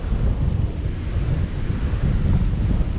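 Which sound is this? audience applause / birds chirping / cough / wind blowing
wind blowing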